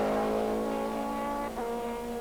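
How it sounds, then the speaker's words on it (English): A four-wheeled drag racer fitted with a motorbike engine, running in the bike class at the Hockenheim Nitro Olympics, gives a loud, steady high-pitched engine drone that shifts pitch midway, close and alone. "It's got a motorbike engine"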